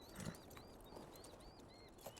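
A horse in the video game Beyond: Two Souls gives faint hoof clip-clops and soft snorting noises, with a short louder burst near the start, over a quiet ambient game background.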